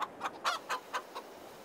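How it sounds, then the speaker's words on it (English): Chickens cluck in a farm scene in Farming Simulator 22, giving a quick series of about six short, fairly quiet clucks in an even rhythm with no talking. "we now have more chickens in there"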